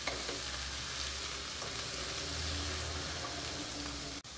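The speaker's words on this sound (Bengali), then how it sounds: "আমি এটাকে একটু বেশ ফ্রাই মতন করে নেব হালকা।" French beans sizzle and fry steadily in a hot pan for vegetable fried rice, a continuous close crackling hiss with a brief dropout near the end.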